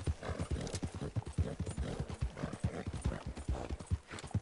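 Rapid, rhythmic clip-clop of horse hooves galloping at a steady pace in Red Dead Redemption 2, fairly quiet and continuous, with no voices.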